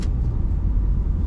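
Low, steady rumble of a car engine from inside the cabin as a learner driver gently presses the accelerator, an even hum with no talk over it.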